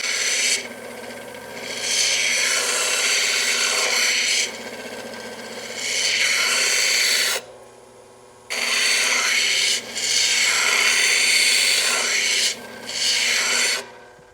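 Fire obsidian held against a spinning 3000 grit diamond disc, a steady close grinding rasp in long stretches, broken by a short lull where the stone lifts off before the rubbing resumes.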